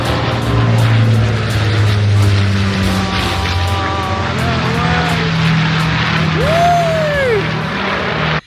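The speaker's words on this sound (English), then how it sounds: "we saw the Lancaster bomber go over" A Lancaster bomber flies over during a war weekend event, its propeller engines giving a steady loud drone with rising and falling harmonic tones as it passes overhead, with no talking.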